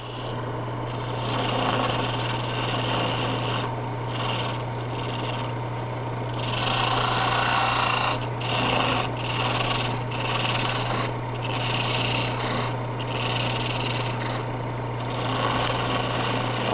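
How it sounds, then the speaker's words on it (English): A wood lathe hums steadily with a low motor drone while a gouge cuts a baluster, its rough shaving and scraping rising and falling in repeated passes, close and without talk. "I'll waste that down, make a stop cut for my gouge"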